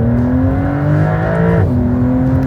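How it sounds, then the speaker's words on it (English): A 2025 Porsche 911 Carrera with the optional sport exhaust accelerates hard. The engine note climbs steadily and loudly, then drops suddenly at a gear change before pulling again. "we do have the sport exhaust system here on this guy right here"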